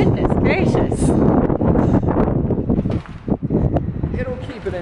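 Strong ocean wind buffets the microphone at a seaside skeet shooting range, a loud rumbling gusting roar under people talking nearby.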